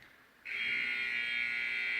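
A basketball game-end buzzer at a Global Basketball Summer League game, sounding suddenly after a quiet moment and holding as a steady, loud, sustained electronic tone.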